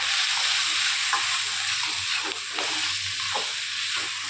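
Yogurt cream being stirred in a hot, oiled pan gives a steady sizzling hiss with a few soft scraping strokes of the stirring, continuous and fairly close, with no talking.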